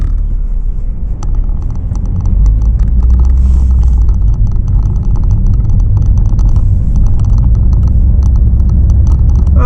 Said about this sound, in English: the road noise ain't too bad today